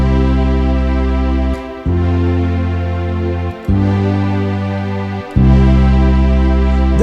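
Electronic keyboard playing sustained chords with full auto-accompaniment, steady bass and layered instrument voices, changing chord every couple of seconds.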